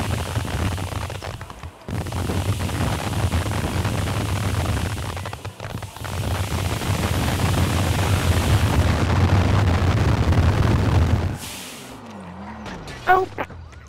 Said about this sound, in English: Oh, dang, it's fireworks.